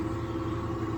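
A car engine running steadily at idle, a constant low hum with even rhythmic pulsing, close and moderately loud, no voices.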